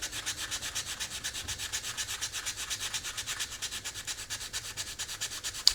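A carved wooden salad server is sanded by hand with an abrasive, close and moderately loud, in quick even back-and-forth rubbing strokes of bright scratchy hiss, about four to five per second, with no talk.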